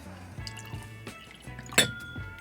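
Bardstown Collaborative Series bourbon, a Goose Island collaboration, is poured into a glass: a few soft drips and trickles, then a sharper glassy splash near the end, close and quiet with no speech.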